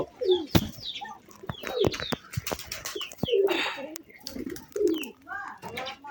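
Free-roaming, uncaged pigeons coo close by in a series of repeated, throaty calls, with scattered clicks and light rustles between them.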